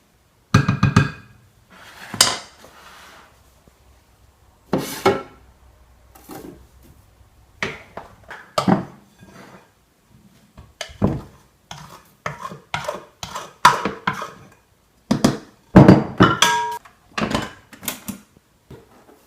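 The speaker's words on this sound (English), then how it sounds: "Now we're just going to stir it around to make sure that all the ingredients are well mixed." A utensil stirs a gluten-free flour mix of four dry ingredients inside a storage container, giving irregular scraping and clinking knocks in short bursts that come close and fairly loud, with no talk.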